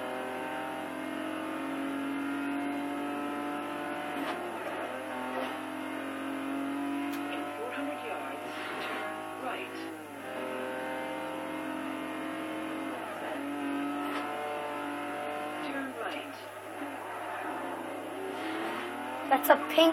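Car driving along the roadside in a video game, a steady engine drone with shifting pitch running throughout at moderate volume, with a voice talking over it.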